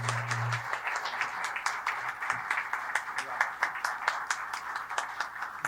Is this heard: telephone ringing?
no